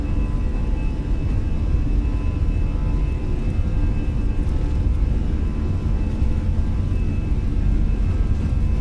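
A Fenix A320 airliner on its takeoff roll at flex thrust in Microsoft Flight Simulator, with a steady, loud jet engine rumble and a faint whine that holds constant throughout.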